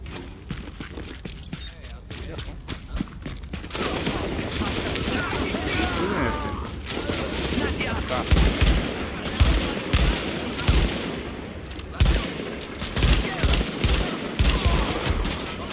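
Gunfire in the video game The Division crackles in bursts and sustained volleys with heavy thumps, loud and busy, while a player speaks German over the action.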